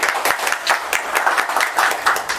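Audience applause for a speaker at a broadcast-industry XR media forum: dense, steady clapping from a room full of people, continuous and fairly loud throughout with no talking.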